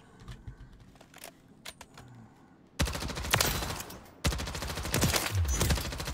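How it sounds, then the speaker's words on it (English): Rapid gunfire bursts in the Call of Duty Rebirth Island video game, sharp loud volleys dominating the second half after a quieter start with scattered distant shots. "I am hearing gunfire at 300"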